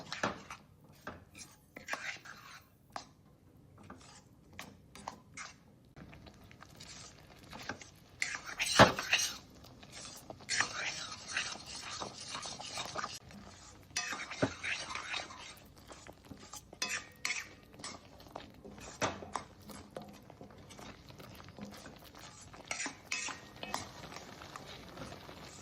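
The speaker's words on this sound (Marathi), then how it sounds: "आपल्याला 2 ते 3 मिनिटं हे मिश्रण यात टाकून हलवून घ्यायचे" Ladoo mixture being stirred in a pan of sugar syrup, with intermittent scraping, clinking and tapping strokes of a utensil, close but fairly quiet, and a couple of louder clatters.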